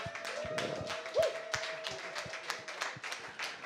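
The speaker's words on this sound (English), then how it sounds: "Can you please give him a clap again" An audience claps in a room: a steady run of sharp, close hand claps sounding together for several seconds, moderately loud.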